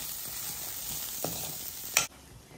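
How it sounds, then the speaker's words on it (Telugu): Salt, chilli powder, coriander powder and garam masala being stirred into frying rajma in a pan, a quiet steady sizzle with a couple of scraping knocks near the end before it cuts off. "ఇప్పుడు దీంట్లో కొంచెం సాల్ట్, కొంచెం కారం, కొంచెం ధనియాల పొడి, కొంచెం గరం మసాలా బాగా కలుపుకోవాలి"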